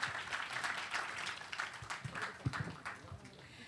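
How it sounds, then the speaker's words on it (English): Audience applause for Minister Greg and Ibu Armida at a G20 energy transitions dialogue, a steady wash of many hands clapping in a hall, moderately loud and sustained, with a few sharper individual claps near the end. "Let's give another round of applause to Minister Greg and also Ibu Armida."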